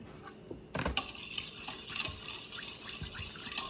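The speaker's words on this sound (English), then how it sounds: "And now we're gonna give it a quick mix." Quick stirring of a yeast and sugar mixture for English muffin bread, close, light scraping and clinking taps of a utensil against a bowl repeating rapidly for a few seconds.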